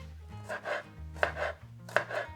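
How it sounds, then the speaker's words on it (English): A knife roughly chops garlic for homemade hummus, three quick bursts of thudding blade strikes on a cutting board, each a short cluster of close, crisp chops with brief pauses between. "First, chop your garlic, but roughly."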